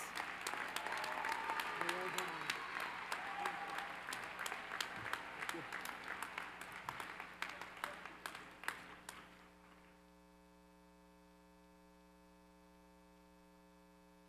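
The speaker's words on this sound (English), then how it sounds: "Can we please give them another round of applause?" An audience at a University of Louisville law school convocation applauds in a steady, dense wash of clapping that thins out and stops partway through, leaving only a low electrical hum.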